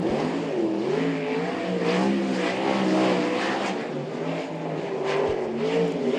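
A sprint car, number 3, races at Archerfield Speedway, engine howling continuously with rising and falling revs as it laps the track, loud and steady throughout.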